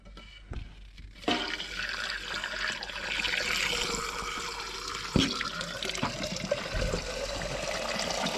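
Water rushes and gurgles steadily through an International 434 tractor radiator being flushed of rust, a continuous close splashing flow with a few louder surges.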